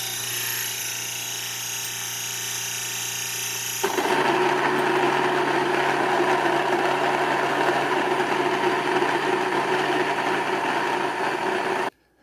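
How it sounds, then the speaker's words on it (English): Electric grain mill grinding wheat berries into flour: a continuous motor whine, then a sharp shift into a louder, rougher grinding roar that holds steady until it cuts off abruptly, with no talking. "when I start this back up, you should hear it grinding"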